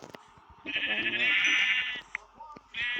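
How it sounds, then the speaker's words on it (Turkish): Sheep bleat in loud, sustained calls from close by, one long cry followed by a shorter one, with people talking faintly around them. "Aa koyun arkadaşlar koyun avlayalım."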